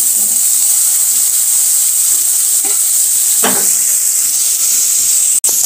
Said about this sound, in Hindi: फिश फ्राई हो चुका है हमारा